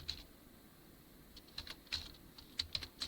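Keys clatter on a computer keyboard as an Excel formula is typed, a few quiet scattered clicks with brief pauses, close and faint.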